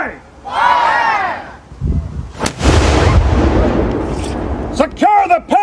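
An 18th-century artillery cannon fired with a quick-fire priming tube gives one booming blast with a long rolling echo, preceded by a shouted command countdown and followed by more shouting.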